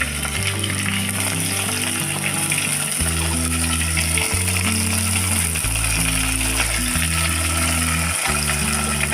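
Stuffed eggplants sizzle in hot oil inside a pressure cooker, making a loud, steady hiss with a few clattering pops, alone under a low humming background.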